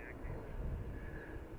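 Airplane on approach to Dublin Airport on a ferry flight from Denver, a steady distant engine drone and rumble with a faint whine, under someone talking.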